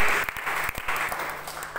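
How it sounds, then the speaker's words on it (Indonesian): Church congregation breaking into applause, a short burst of many hands clapping with a few distinct loud claps close by. "Beri tepuk tangan terbaik."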